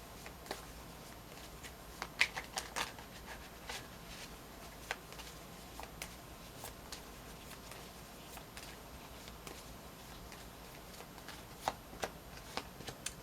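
An Arcanum Tarot deck is shuffled by hand in a quiet room, producing a steady, soft patter of card riffles and scattered sharper slaps, close and without talk.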